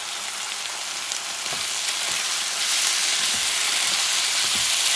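Hot peppers fry with chorizo and ground beef in a pan, giving a loud, continuous sizzle with faint stirring scrapes, growing a little louder partway through.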